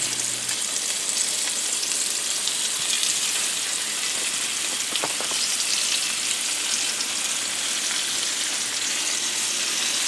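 Steady, dense sizzling of turkey breast steaks frying in a pan, continuous and close, with a brief scrape of stirring midway and no talking.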